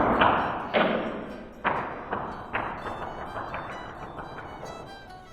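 A LEGO trebuchet releasing its projectile with a sharp thud, then a series of bouncing, clattering thumps of plastic landing and tumbling, each impact softer and more spaced, heard close with no talk.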